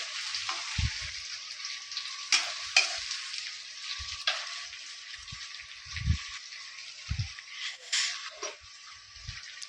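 Green chillies and small tomatoes fry in a pan with a thin, steady sizzle, punctuated by several separate close scrapes and clacks of a spatula stirring them.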